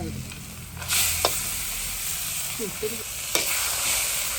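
Mutton frying in a pot for a Jaffna temple-style curry, a steady close sizzle with a few sharp spoon scrapes and knocks as it is stirred.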